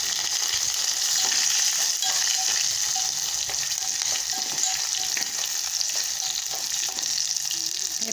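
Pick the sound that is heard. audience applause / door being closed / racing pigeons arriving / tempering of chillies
tempering of chillies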